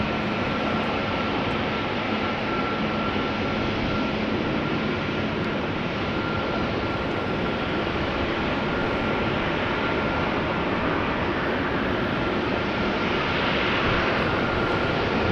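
Steady, loud roar of jet engines from an EasyJet Airbus A320neo at Amsterdam Schiphol Airport, a continuous broadband rumble with a faint whine, no voices.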